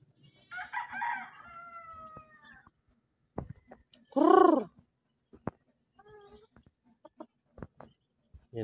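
A gamefowl rooster from a sweater bloodline cross crows close by in one loud, rising and falling call, with clucks, a cat-like meow and scattered knocks around it in an otherwise quiet yard.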